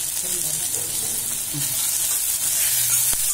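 Dal, asafoetida, ginger and garlic frying in a pan for Maharashtra-style paruppu rice, a steady bright sizzle with occasional stirring scrapes, close and continuous.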